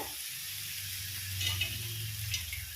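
Taro root and spinach frying in a pan, a steady close sizzling hiss with a low hum beneath and a couple of slight bursts of crackle.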